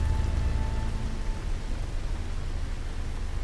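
Heavy storm rain on a hostile planet in No Man's Sky, a steady dense hiss of downpour with a low rumbling undertone, continuous and even throughout with no voices.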